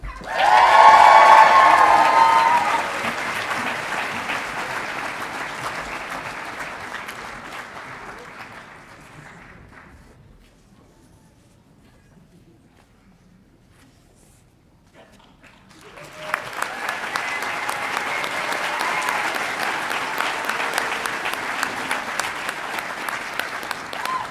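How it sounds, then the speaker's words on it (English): Audience applause and cheering at a veterinary medicine hooding ceremony for the class of 2022 at Colorado State University, a loud burst that fades to near silence, then a second sustained round of clapping. "Let's give a big round of applause to our doctors of the class of 2022."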